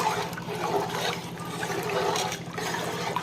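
Water is stirred into rice in a cooking pot for chicken biryani, a continuous sloshing and swirling of liquid that carries on throughout with small surges.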